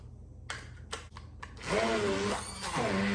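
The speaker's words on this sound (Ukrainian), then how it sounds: "І тепер це все буду перебивати блендером." A few knocks and clicks, then an electric blender whirs loudly and close, blending cottage cheese with sour cream in two continuous runs with a whining, shifting pitch.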